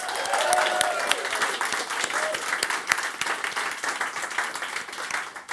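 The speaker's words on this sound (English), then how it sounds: "can we give them a round of applause?" Audience at a live book awards ceremony applauds the behind-the-scenes organisers, a steady wash of many hands clapping that holds throughout at moderate loudness with no talk over it.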